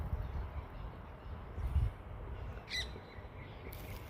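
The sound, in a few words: parrots squawking while eating roseberry fruits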